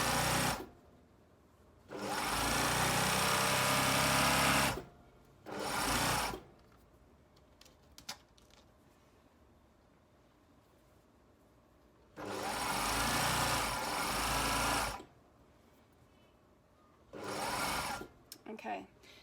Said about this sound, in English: Start off by sewing a little back tack and sewing up the side.